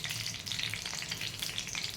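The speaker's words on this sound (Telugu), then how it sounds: "కొంచెం జీలకర్ర వేస్తున్నాను నేను" Cumin seeds dropped into hot oil in a pan for tempering, a dense, steady crackling sizzle, close and fairly quiet, with no voices.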